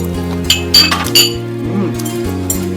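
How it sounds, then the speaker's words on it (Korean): Small ceramic serving plates clink sharply as they are handed around at a Korean home meal, with several close, bright knocks early on over a steady background of music. "앞접시 하나씩만 주면 되겠다."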